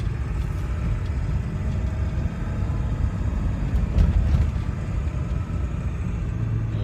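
A 2002 Ford F250 pickup truck driving on a road, its engine giving a steady low rumble with road noise from inside the cab, fairly loud and continuous with no talking.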